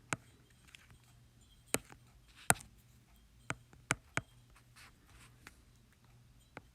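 Pen or pencil drawing a free body diagram of a joint on paper, producing faint scattered taps and short scratchy strokes at an irregular rhythm in a quiet room.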